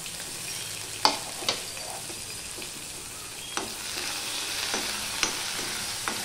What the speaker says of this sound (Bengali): রসুনটা লাল লাল করে আমি ভেজে নেব